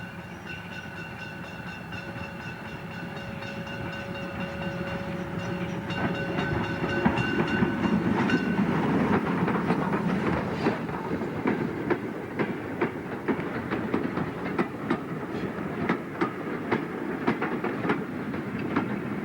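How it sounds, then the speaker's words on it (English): A German tank-type steam locomotive hauls a demonstration freight train on a heritage line, with clear rhythmic clickety-clack of wagons over rail joints rising as it passes close by. "the German tank is heading a demonstration freight train away from Peterborough"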